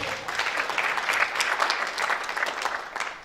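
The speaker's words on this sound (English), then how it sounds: "Can we please give them a round of applause?" A crowd claps steadily for a few seconds, a dense wash of applause that tapers off slightly at the end.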